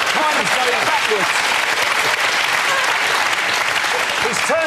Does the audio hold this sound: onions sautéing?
no